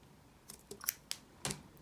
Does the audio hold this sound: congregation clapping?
no